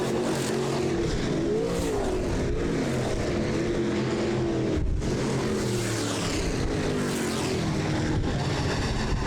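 Race cars roar around an oval track at the finish of a heat race in a weekly racing series, a continuous loud engine drone with rising and falling pitch as the field passes, steady throughout.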